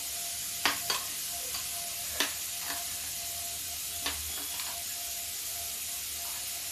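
A spoon stirs jaggery into porridge in a cooking pot, giving a few soft scraping clicks spaced irregularly over a steady low background hiss.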